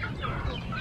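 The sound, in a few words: chickens clucking at feeding time in a village coop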